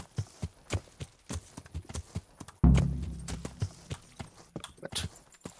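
Horse hooves clip-clop in Kingdom Come: Deliverance, a clear, evenly paced series of close, sharp hoof strikes, broken midway by a brief loud thump.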